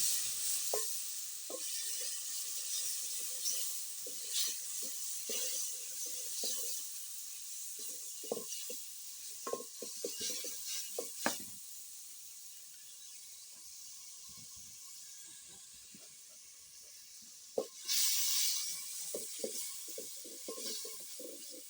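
Tomato drops into hot oil in a village cooking pot, a steady soft sizzle and hiss with scattered crackles and a few stirring knocks, quiet and continuous with no talk.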